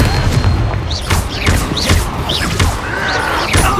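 Repeated booming spell blasts in the Hogwarts Legacy video game, loud and rhythmic thuds with bright whooshing sparkles over a dense combat din, a voice faintly present underneath.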